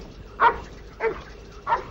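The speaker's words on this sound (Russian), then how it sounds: "Пес на твоих товарищей лает." A dog gives three short, muffled barks at a steady spacing, moderately distant and fairly quiet against a low background hum.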